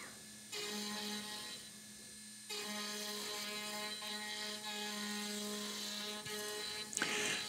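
A CNC router drives a half-inch end mill through wood, cutting mallet parts, giving a steady, close whine with a constant tonal hum that pauses briefly near the start and then runs on.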